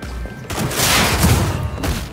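A burst of rapid gunfire in Cyberpunk 2077 rattles and booms close by, dense overlapping shots with heavy low thuds filling two seconds before easing off.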